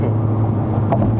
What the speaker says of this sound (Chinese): 哎呦，我听到那个 intake 的声音了哦